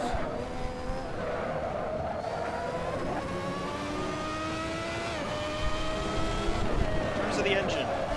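Ferrari 643 Formula One race car in Assetto Corsa, rated at 715 horsepower, screams at high revs through continuous gear shifts, its engine pitch climbing and dropping repeatedly, with tire squeal near the end.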